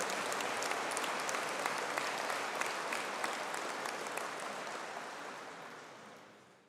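A crowd at an engineering and informatics graduate conferring ceremony claps for the graduates in a steady, even wash of applause that holds throughout and tapers off gently at the end.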